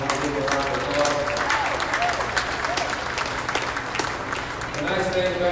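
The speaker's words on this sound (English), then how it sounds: "we'll give a round of applause" Audience applause fills a beef cattle show arena, steady and dense clapping from a sizable crowd sustained for several seconds with faint voices mixed in.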